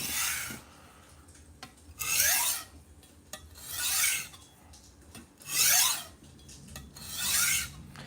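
A Sakai Takayuki kitchen knife drawn across a sharpening stone in long one-way strokes, five rhythmic raspy scrapes spaced about a second and a half apart, close and clear with no talking.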